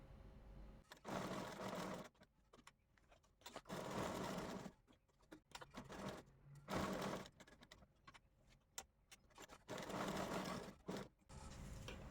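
A sewing machine stitches tucks into saree fabric for a blouse in several runs of steady rapid whirring, close and clear, separated by brief pauses, clicks and handling noises.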